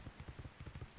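Rain falling in the video game Ark Scorched Earth: a brief, quiet, steady patter with soft rhythmic pulses of drops on a surface, with no voices.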